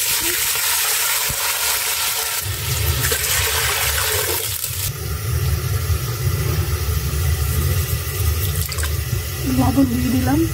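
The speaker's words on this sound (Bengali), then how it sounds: "পানি দিয়ে দিচ্ছি।" Water is poured into a hot cooking pan of fried ginger paste, giving a loud hissing rush that shifts into a lower bubbling simmer and continues steadily, with no voices.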